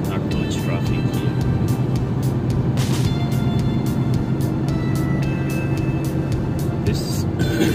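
A car drives through light, smoothly moving Dubai traffic near Dubai Festival City: a steady, loud road and engine rumble with passing vehicle noise throughout.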